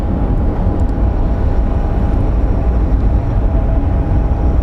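A small JSX jet at Phoenix Sky Harbor International Airport, heard as a loud, continuous engine roar that stays steady throughout, with no talking.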